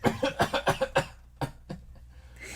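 A rapid burst of harsh coughs, about six in quick succession, followed by a few weaker, spaced-out coughs, close and loud.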